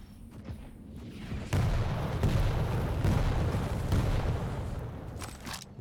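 Rocket launcher blasts and explosions in a Quake 1on1 duel, a dense run of loud booms and bursts that surges after the first second and keeps rumbling with several sharp impacts.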